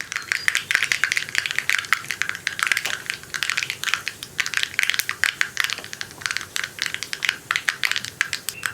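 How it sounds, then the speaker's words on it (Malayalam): Mustard seeds crackle and pop in hot coconut oil in a home kitchen, a dense run of sharp, close snaps and sizzles in an irregular rhythm with no talk. "കടുകൊന്ന് പൊട്ടി തുടങ്ങട്ടെ."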